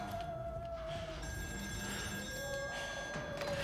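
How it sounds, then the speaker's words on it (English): A telephone rings on an offshore rig in the video game Still Wakes The Deep, sounding a steady electronic ring at moderate level over a low droning ambience, with no speech. "Damn phone again."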